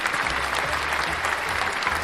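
An audience claps loudly and steadily throughout, a dense crowd applause that stays at an even level during a stand-up comedy set.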